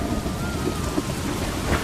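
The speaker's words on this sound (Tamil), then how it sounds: "ஒரு நாள் ராத்திரி ஊரே அதிருற அளவுக்கு பயங்கர மழை." Heavy rain pours down steadily during a night thunderstorm, a loud continuous wash of rainfall with low rumbling beneath it.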